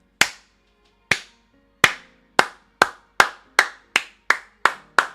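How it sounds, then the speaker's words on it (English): A single person claps about eleven times in an irregular, slowing-then-steady rhythm, each sharp, close clap ringing out clearly with silence between, no voices present. "Round of applause for ISO Flip here."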